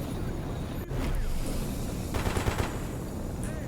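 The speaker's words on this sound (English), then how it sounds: "Might not even be shooting at me" Gunfire in the game Escape From Pripyat, a dense, continuous rattle of automatic shots with a few sharper bursts near the end, steady and moderately loud throughout.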